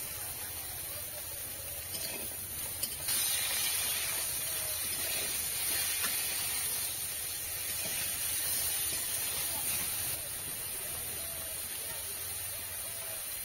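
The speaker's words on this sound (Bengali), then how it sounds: "ফুলকপিটা হালকা ভেজে নিচ্ছি" Cauliflower florets with turmeric and salt fry lightly in oil, giving a steady soft hiss and sizzle that swells slightly midway, faint and continuous with no talk.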